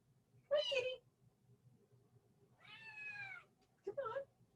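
A cat meows three times, moderately close, in a quiet indoor setting, with a longer drawn-out cry in the middle and short calls before and after over a faint low hum.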